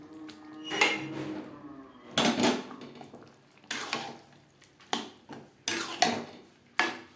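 A spatula mixes chicken with boiled green moong dal in a pan for egg chicken tadka, making spaced, distinct scrapes and knocks against the metal, loud and close with quiet gaps between strokes.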